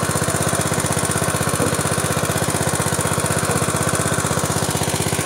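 A small engine powering a fertigation system for a vegetable garden runs steadily nearby, giving off a loud, rapid, even chugging pulse with no pauses.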